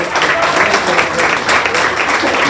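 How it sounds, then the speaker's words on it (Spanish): A church congregation applauds at the end of a Spanish-language sermon, a loud, thick wash of clapping that sustains evenly throughout. "Den un aplauso fuerte al Señor"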